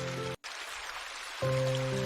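Steady rain falls as a continuous hiss behind a soft sustained musical tone, cutting out briefly near the start before returning slightly louder, used as an effect in a narrated Indonesian story.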